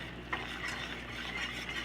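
Flour roux cooking to golden brown in a pan while being stirred, a gentle continuous sizzle with soft scraping strokes and a faint utensil tap, close and low in level, no speech.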